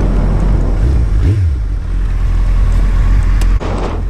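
A Suzuki Hayabusa motorcycle engine drones steadily throughout with heavy wind buffeting, a low rumble rising briefly partway through, no voices.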